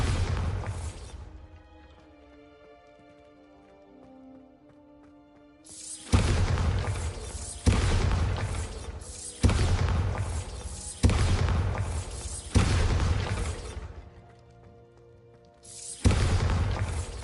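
Bombarda explosion spell cast in Hogwarts Legacy, a series of five loud, booming blasts in steady succession, each with a sharp attack and a rumbling tail, with quieter ambient tones in between.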